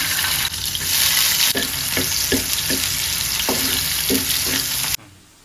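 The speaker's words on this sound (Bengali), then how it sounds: "তেল দিয়ে দিলাম, পেঁয়াজ কুচি দিয়ে দিলাম" Chopped onions sizzling in hot oil in a village kitchen, a loud steady frying hiss with rhythmic stirring scrapes, ending abruptly near the close.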